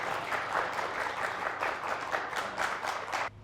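A studio audience breaks into sustained applause for a Golden Ticket contest winner on a game show, a steady wash of many hands clapping at moderate volume that stops abruptly at the end.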